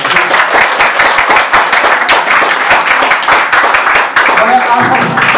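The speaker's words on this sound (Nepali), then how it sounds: "म 10 क्लासका होनार योद्धालाई तालीले स्वागत गरिदिनलाई म हार्दिक अनुरोध गर्न चाहन्छु" Audience clapping to welcome class 10 students at a school farewell and honour ceremony, dense rapid applause from many hands, loud and close, sustained for several seconds.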